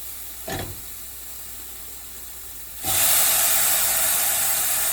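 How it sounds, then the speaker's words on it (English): Potatoes dropped into a hot pan of roasting garlic, peppers, cumin and anise for a cauliflower and potato curry, a brief clatter followed by a loud, steady hissing sizzle that fills the rest of the clip. "After the garlic and peppers and cumin and anise are all roasted a little bit, I'm going to add potatoes."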